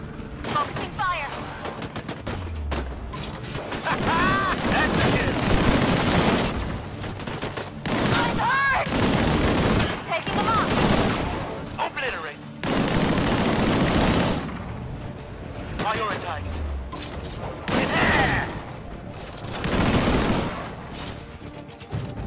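Gunfire in the video game Disintegration: repeated bursts of rapid shots and fusillades come in waves with brief pauses between them, loud and dense. Game sound effects and some voices are mixed in.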